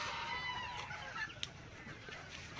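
Sonali chickens at a poultry farm cluck steadily throughout, a dense flock heard close with a single brief sharper squawk near the middle.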